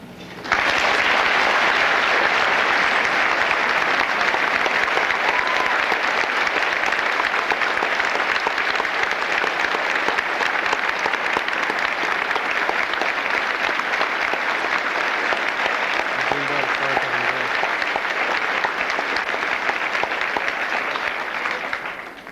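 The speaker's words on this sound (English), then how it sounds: "I ask you, through your applause, to express your appreciation for their efforts." A large commencement audience at a 1996 high school graduation gives sustained, even applause for the teaching faculty, a loud, steady roar of clapping lasting over twenty seconds.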